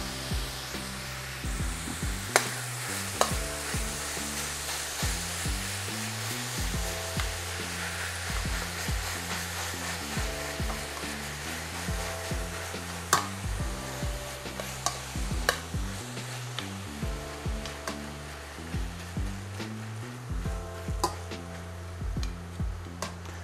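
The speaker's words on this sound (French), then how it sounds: "on veut vraiment bien faire saisir la viande" Ground meat searing in a hot pan while being stirred and pressed down for an Italian-style dish, a steady close sizzle with scraping and knocking of the utensil recurring throughout.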